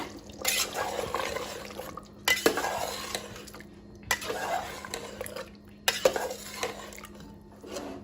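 Mutton kidney and liver masala with yogurt being stirred in a pan, with repeated scraping clatter of a spoon against metal in four bursts, wet sizzling and a steady hum underneath, close and moderately loud.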